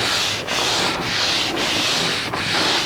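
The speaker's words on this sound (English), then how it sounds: "This is the buffing process after allowing for 10 minutes of dry time." Leather is buffed by hand after a coat of recoloring balm, a close, dry rubbing swish that repeats in four or five even strokes with brief gaps between them.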